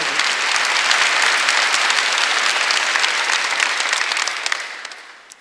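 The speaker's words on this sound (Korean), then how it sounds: "깨달은 사람은 박수 세게 쳐보세요" A large church congregation claps steadily and vigorously for about five seconds during a Sunday service, the dense applause fading slightly at the end.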